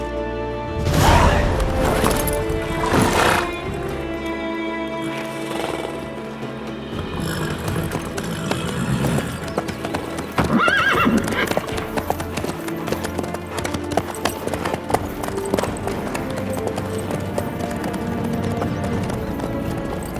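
A horse's hooves clip-clopping at a steady, rapid pace in The Witcher 3 video game, loud and close, with a neigh near the start, layered over game music and ambient sound.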